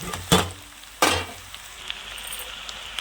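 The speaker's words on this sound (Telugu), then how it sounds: "ఉల్లిపాయ చక్కగా వేగిపోయి మనం బెండకాయ ముక్కలు వేసేద్దాం" Okra pieces drop into a pan of frying onions for a tamarind okra stew, two sharp loud bursts of sizzling followed by a quieter steady crackle, with no talk.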